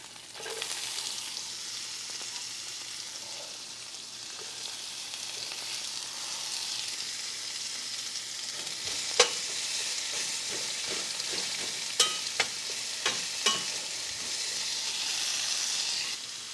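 Onions soften and fry in a pan for hamburger steak with onion mushroom gravy, a steady moderate sizzle with a few sharp scraping stirs partway through, no talking.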